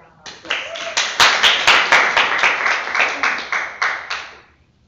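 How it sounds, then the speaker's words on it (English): A small group at a Toastmasters club meeting gives a round of applause, a dense burst of hand clapping that swells, holds steady for several seconds, then dies away. "Give another round of applause."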